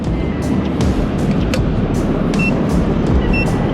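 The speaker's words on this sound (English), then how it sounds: "Now you hear that little beeping," Faint, evenly spaced high electronic beeps from a fishing drone returning home repeat over loud, rushing wind and surf noise outdoors.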